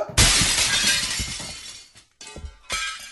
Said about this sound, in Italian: spacca il vetro